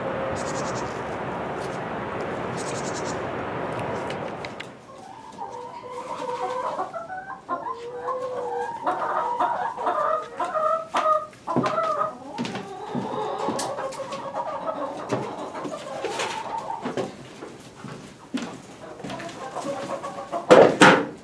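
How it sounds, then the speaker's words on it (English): Hens cluck and chatter in a steady, close stream, a brief rush of noise at the start and a louder call near the end. "So let's go feed the chickens."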